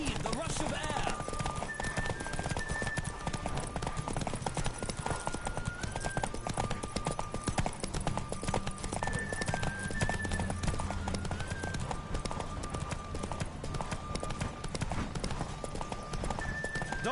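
A horse gallops in The Witcher 3 game with rapid, continuous hoofbeats throughout. It gives a few neighs, and music and voices run beneath it.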